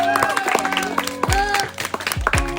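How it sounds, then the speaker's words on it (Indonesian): A junior high classroom of seventh graders claps at the end of a group presentation in an orchid cultivation lesson. The clapping is uneven and mixed with lively young voices and cheering, fairly loud and close. "Kasih tepuk tangan dong yang meriah"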